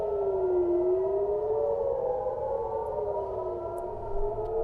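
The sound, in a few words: missile air raid sirens going off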